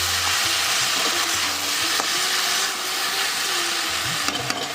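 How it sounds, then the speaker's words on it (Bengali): Okra (bhindi) fries in a pan with a loud, continuous sizzle and occasional faint stirring clicks, close up and with no talking. "দেখি ভেন্ডি ভাজাটার কী অবস্থা"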